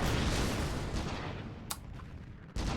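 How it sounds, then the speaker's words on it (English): A steady, dense roar of Bucky missile barrages hitting an Aegis in AirMech, continuous rumbling fire with a couple of sharp cracks near the end and no talk. "3 Buckies to 1 Aegis, which is happening right now, and the Bucky missiles are barely getting through"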